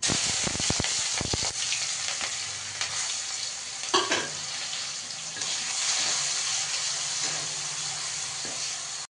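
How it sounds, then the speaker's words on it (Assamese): Onions sizzling in hot oil in a wok while being stirred, a steady close frying hiss broken by a few sharp scraping strokes near the start. "তাতে মই প্ৰথমতে পিঁয়াজখিনি এনেকৈ দি লৈছোঁ"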